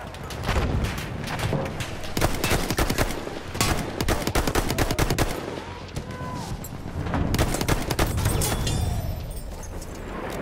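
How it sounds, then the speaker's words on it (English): Rapid machine-gun bursts and mixed gunfire fill a World War I battlefield in a shooter game, loud and sustained with overlapping shots near and far, while voices shout intermittently. "There's a machine gun!"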